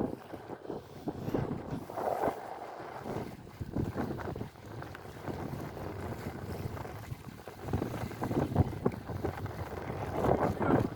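Sailboat under way with its sails filling in the wind, giving a rushing, buffeting wind noise with swells of water and hull movement, close and continuous, rising and falling in gusts.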